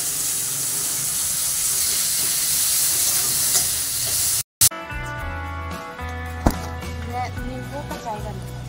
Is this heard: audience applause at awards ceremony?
no